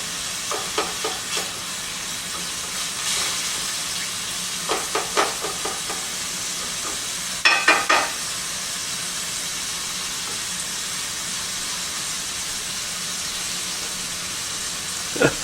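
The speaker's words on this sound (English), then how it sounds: "use a bigger pan to brown hamburger meat" Hamburger meat browns in a large pan for a beef pepper rice bowl, giving a steady close sizzle and hiss broken by occasional scraping clicks of stirring.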